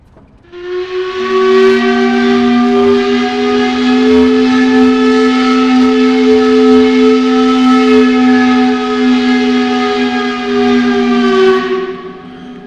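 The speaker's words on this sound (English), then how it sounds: "that factory whistle means that it has just gone from an idle industry to one that is doing a production run" A factory whistle in the Century of Steam railway game signals an industry starting a production run: one long, loud, steady whistle with a rich harmonic tone, held for about ten seconds before fading off.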